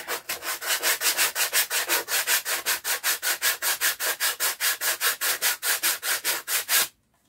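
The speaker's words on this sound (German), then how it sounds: "hier müsste ich noch ein bisschen schleifen" Rapid, even back-and-forth sanding strokes on wood, about four per second, loud and close, continuing without pause before stopping abruptly.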